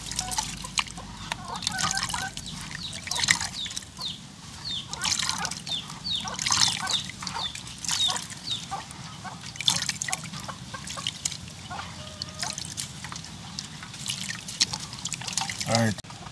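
Coconut juice pours and drips while preparing rice and peas, a close trickle and patter of irregular drips and splashes, with people chatting throughout.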